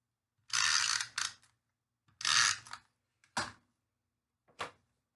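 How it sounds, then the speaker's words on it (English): Stampin' Up snail adhesive tape runner rolling across card stock for a Christmas card, four short ratcheting bursts, the first two longer, close and fairly loud with no talk. "I'm going to use my snail adhesive, my handy dandy"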